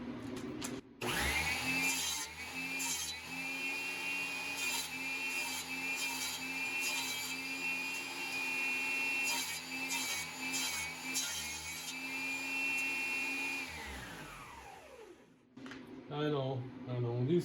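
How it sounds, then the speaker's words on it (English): A power saw cuts freehand through hardwood pieces on a workbench, giving one long, steady, loud whine that holds for about thirteen seconds before spinning down, followed by brief talk at the end. "I'm gonna cut some more here."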